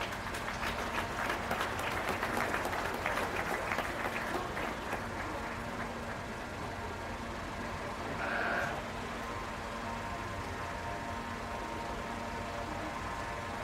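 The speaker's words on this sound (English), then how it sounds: "Let's give these young people a round of applause" A crowd claps steadily at a county fair beef cattle show, loudest at first and then thinning into scattered clapping, with a faint animal bleat partway through.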